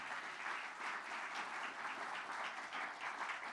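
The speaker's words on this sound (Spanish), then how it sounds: "Denle un aplauso al Señor, hermano." At a church service during a pastor's sermon, the congregation claps in steady, sustained applause. It sounds fairly distant and soft and runs evenly for several seconds without speech.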